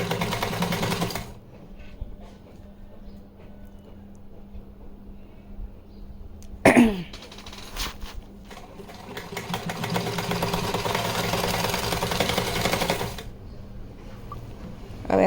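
A sewing machine runs steadily as it stitches lace onto cloth, with a soft mechanical whir that pauses, gives a brief clunk, and then runs again for several seconds before stopping.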